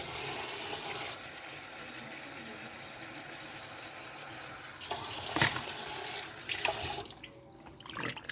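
Warm tap water runs steadily for about a second, then gives way to quieter kitchen noise with a few splashes and clinks near the end, no talking.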